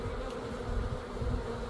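Honeybees buzz and fan steadily at a newly installed hive box, a close, continuous droning hum with slight swells in loudness and no talk.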